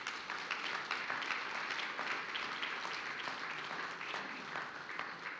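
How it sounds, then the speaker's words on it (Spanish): A church congregation applauding together, dense continuous clapping from a large room of people, steady and fairly distant with little variation in intensity. "Si quieres darle un aplauso a Dios, dáselo, pero como Él lo merece."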